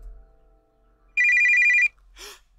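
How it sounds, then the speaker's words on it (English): A telephone rings in the office of an animatronic horror video game: one loud, buzzing electronic ring burst lasting under a second, followed by a faint brief click, over a quiet low hum. "Oh, it's the phone."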